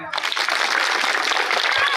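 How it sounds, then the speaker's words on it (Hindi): Applause from the audience at a live Hindi stage comedy show with a comedic host, as a dense, steady wash of many hands clapping for two seconds. "बजाइए एक बार तालियां"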